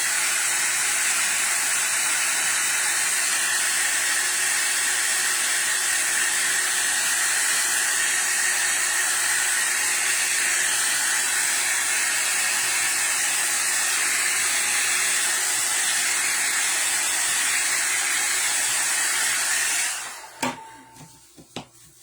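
A hair dryer blows steadily at close range while drying rust-effect craft paint, a loud continuous whooshing hiss that holds for about twenty seconds before being switched off, followed by a few small clicks and handling noises.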